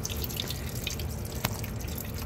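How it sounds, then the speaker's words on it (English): Coolant water drains from the radiator petcock of a 1948 Buick Roadmaster 70 with a straight-eight engine, a steady close trickle and splash of liquid with a few distinct drips. "Okay, so now that we got this draining, as you can see, it's only water that's been in there."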